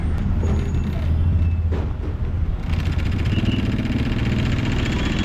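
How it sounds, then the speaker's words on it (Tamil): City bus halting at Peters Road bus stop, its engine rumbling steadily up close with an air brake hiss, then continuing to idle loudly without talk. "இப்போ bus நிற்கிறதாங்க Peter's road bus stop"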